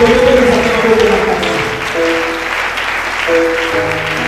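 A church congregation at a Sunday service claps loudly for the Lord, with sustained musical tones ringing over the clapping.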